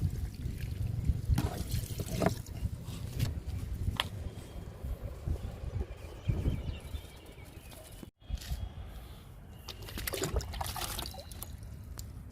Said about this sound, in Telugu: జామకి ఇస్తున్నా వాటరు